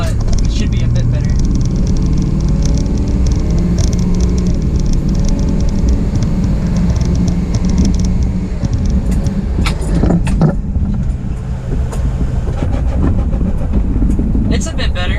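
A 2004 Ford F-250 truck with a worn transmission filter drives and accelerates through its gears, a loud continuous engine drone with rattles and knocks from the cab, heard from inside while a person talks over it.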